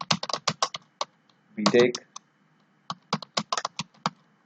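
Quick bursts of computer keyboard typing, close and crisp, with a short spoken word interrupting the clicking midway.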